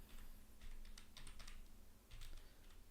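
Rapid typing on a computer keyboard, a steady close stream of light key taps with no talking.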